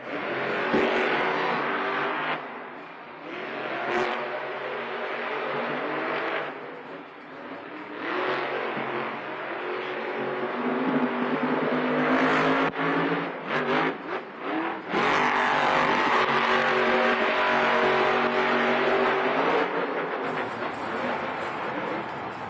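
Monster trucks race in a stadium at Monster Jam in Salt Lake City, engines roaring loudly and continuously with revving surges and a crowd-filled, echoing backdrop.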